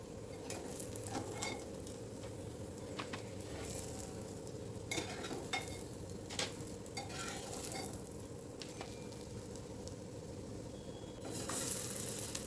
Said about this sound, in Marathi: पुन्हा एकदा आपल्याला अशाच प्रकारे सगळे कटलेट शॅलो फ्राय करायचे आहे.